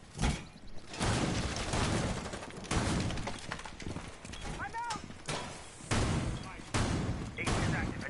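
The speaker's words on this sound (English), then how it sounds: "I think I just heard a shotgun." Shotgun blasts from a tactical shooter game round where attackers push to defuse a bomb, heavy broadband bursts repeating every second or so, loud and close, mixed with steady game noise and talk.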